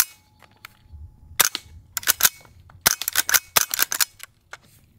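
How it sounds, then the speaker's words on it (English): A quiet AR-22 rifle fires a quick series of suppressed, sharp cracks, each shot landing with a bright metallic ping on a steel target; the shots come in irregular bursts and clusters, close and crisp. "Let's shoot some steel. That steel is significantly louder."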